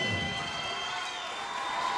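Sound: boxing crowd cheering at fight in Hollywood, Florida

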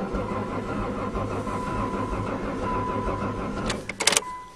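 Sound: 2010 Caravan engine cranking on a cold start

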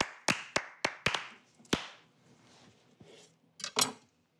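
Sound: slow clap from studio audience

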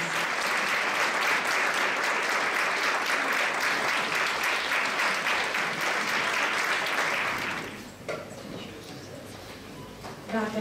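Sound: audience applause at a charity festival

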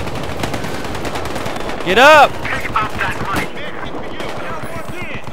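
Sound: M16A3 rifle gunfire in the video game Battlefield Hardline

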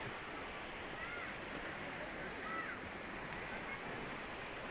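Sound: ocean waves on the shore

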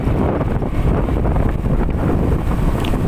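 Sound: strong wind blowing over rice field

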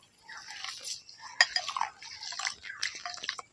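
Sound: parboiled rice being washed with water in a bowl

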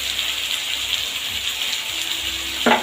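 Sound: ginger-tomato-chili-cumin paste frying with turmeric and salt

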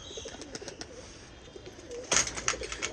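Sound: pigeon cooing

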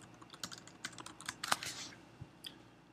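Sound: typing on a computer keyboard

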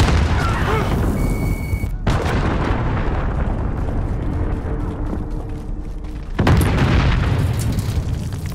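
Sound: enemy cruise missile explosion in video game

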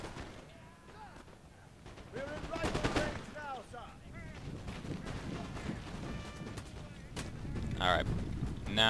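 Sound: troops firing volleys in video game Napoleon: Total War

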